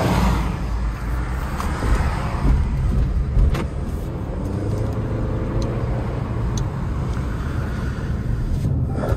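A rented Jeep Compass drives along, its engine and road noise forming a steady, close rumble with tire roar and occasional faint clicks, and no talk over it.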